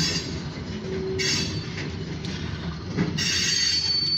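Slow-moving short grain hopper train rolling past, with continuous rumbling wheels, occasional high squeals from the wheels and irregular clicks over rail joints, close and steady.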